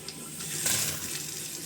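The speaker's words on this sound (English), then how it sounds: "Now we let the water run" Water runs steadily from a Quooker kitchen tap, a continuous hissing splash into a sink, fairly close and with no voices.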